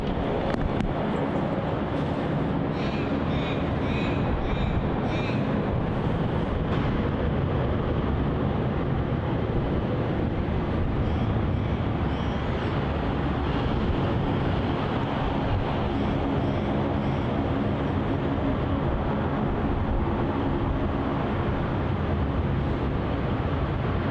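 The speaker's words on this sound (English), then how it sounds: "That there was Qantas flight 675 departing off to Adelaide" Qantas flight 675, a Boeing 737-800 airliner, departing Melbourne Airport for Adelaide: a steady, loud broadband jet engine roar that holds throughout with some wind noise, no talking.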